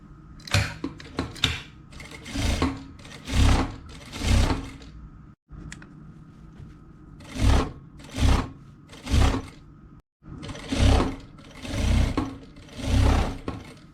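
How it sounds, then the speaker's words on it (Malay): A sewing machine stitches elastic onto a child's skirt in repeated short bursts of rapid whirring and needle thumping, separated by brief pauses, loud and close. "kita boleh start jahit"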